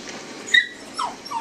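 A pet puppy gives a quick yip followed by a soft, rising whimper, brief and fairly close, with no talking.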